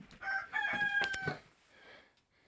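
Chickens in a coop in winter, with a rooster crowing once nearby and softer clucks trailing off afterward.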